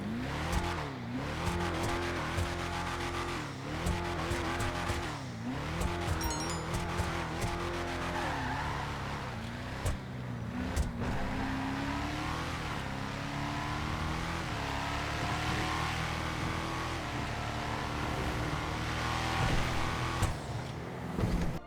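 The Declasse Walton L35 truck's engine in GTA Online revs and roars continuously, with rising and falling pitch sweeps, tire squeals and occasional knocks, loud and close with no talking.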